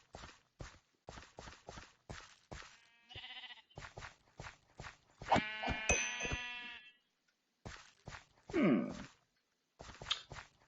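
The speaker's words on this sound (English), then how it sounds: "Haven't seen sheep down here in quite a while." Several video game sheep bleats in a Minecraft-style game, one long and loud, rise over a run of quick, regular footstep thuds, with a short electronic chirp near the end.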